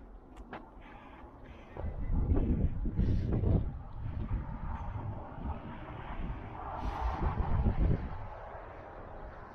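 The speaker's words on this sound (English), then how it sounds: "A little bit of wind, not bad." Outdoor wind at Wilson Arch near Moab, Utah, a low rumbling buffeting on the microphone that swells and fades in gusts, fairly loud.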